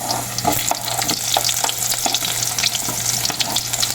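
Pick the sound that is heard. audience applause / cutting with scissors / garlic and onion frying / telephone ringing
garlic and onion frying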